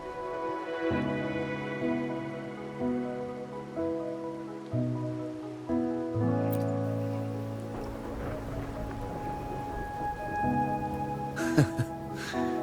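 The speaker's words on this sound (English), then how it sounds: "are you simply passing the time until the rain ends?" Rain falls in the video game Wuthering Waves as a soft, steady patter under sustained musical notes that shift in pitch every few seconds, with a brief brighter burst near the end.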